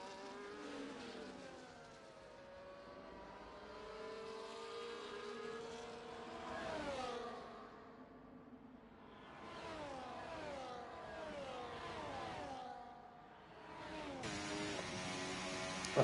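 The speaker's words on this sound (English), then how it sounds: "5 cars all battling it out for that one position." Race car engines in a sim racing game at Baku as a pack of five cars battles for position, several engines whining and rising through gears at once, overlapping revs and pitch sweeps at moderate distance with no talk.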